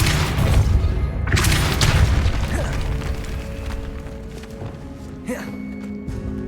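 Depulso force spell cast in the Hogwarts Legacy video game, a heavy booming blast over a dense rumbling game soundscape, followed by a few lighter knocks and a sharp impact near the end.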